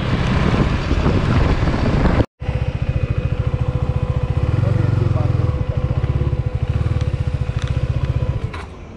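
Motorcycle engine pulling steadily during a street ride, with a close, rhythmic pulsing drone and wind noise across the microphone. A brief cut interrupts it before the engine note resumes at a steady pace.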